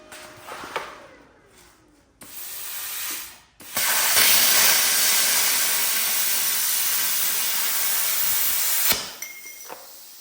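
Arc Captain plasma cutter running on 220 volts and slicing through 10 gauge metal: a short hissing burst, then a loud, steady roaring hiss lasting about five seconds before it cuts off abruptly.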